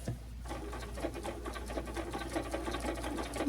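A sewing machine runs a steady straight stitch on machine appliqué, its rapid even needle clatter continuous and close throughout, with no talking.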